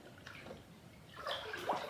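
Water sloshing and gurgling in a bathtub as a Sonic plush with soap shoes is washed, soft uneven swishes that grow louder and splashier toward the end, close by with no talking.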